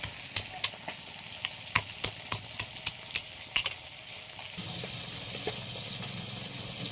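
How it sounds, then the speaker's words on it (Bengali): Crab meat sizzling as it fries in a pan, with a steady hiss under a series of sharp, evenly spaced clicks and taps of a utensil for the first few seconds, then a smoother continuous sizzle. "শাঁসগুলো ভাজা হয়ে গেছে, তুলে নিলাম।"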